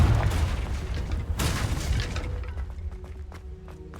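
A Confringo fire spell blast in Hogwarts Legacy: a loud booming burst near the start and a second sharp explosion around the middle, followed by a fading rumble and scattered crackling debris, with no talk.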